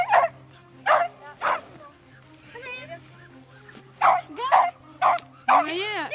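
Two sociable dogs at a daycare setting give sharp, close barks and yips in bursts, with a whimpering whine between them and a faint steady hum underneath.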